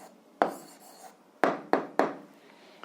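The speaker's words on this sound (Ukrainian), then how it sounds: "записуємо відповідь, пишемо відповідь" A pen moves across a notebook page in a few quick scratchy strokes, with short bursts of writing separated by brief pauses in a quiet room.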